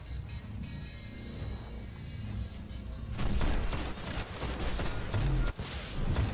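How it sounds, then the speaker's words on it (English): Rocket launcher fire from the video game Destiny, aimed at a Minotaur during a raid: after a quiet, humming stretch, a burst of loud blasts and explosions breaks out and carries on with heavy, booming impacts. "we've got a full fresh set of 7 rockets, and here comes the Minotaur. So we're just going to plant one straight into the Minotaur"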